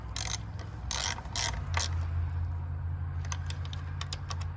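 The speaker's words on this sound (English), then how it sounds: "And then you just tighten your bolts up." A ratchet wrench tightens bolts during a shift linkage job, a close run of rapid clicking strokes in uneven bursts over a steady low mechanical hum.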